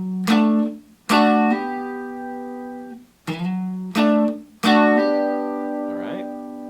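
Electric guitar plays an intro riff: five sharp strummed chord stabs, each ringing out briefly before the next, in a stop-start rhythm, played clearly and alone without talk.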